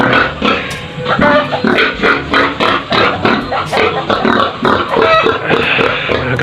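Large White pigs on a small farm oinking and grunting loudly and close, a dense continuous chorus of overlapping snorts and squeals with rhythmic bursts throughout.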